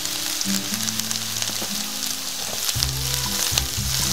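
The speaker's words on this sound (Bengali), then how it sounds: "জিরেটা একটু ভালো করে ফ্রাই হয়ে গেলে তারপর দিয়ে দেবো এখানে আমরা আদা রসুন চপিং, আর দিয়ে দেবো কাঁচা লঙ্কা।" Cumin, chopped ginger, garlic and green chili fry in oil with a bright, crackling sizzle, close and steady, broken by a few short tonal clinks of utensils against the pan.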